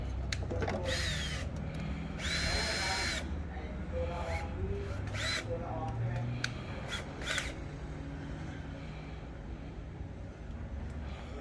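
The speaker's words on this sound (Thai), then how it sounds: "ก็ใช้ตัวตะปูเกลียวปล่อยเนี่ย ยิงตามเข้าไป" A power drill drives self-tapping screws while an electric fan is fitted to a Mazda BT-50 Pro, giving short whirring bursts over a constant loud engine-bay or workshop hum.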